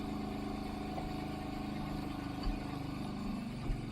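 The engine of a Kawasaki Brute Force 750 four-wheeler runs close by with a steady, throbbing low rumble and a couple of faint knocks.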